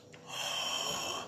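A single deep breath drawn in and pushed out as a steady, airy exhale, close to the mic and lasting about a second, with no talking.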